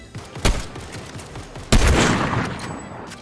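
Sniper rifle fire in Fortnite: a quieter, sharp suppressed shot followed about a second later by a much louder, booming crack that echoes and decays, with no talking.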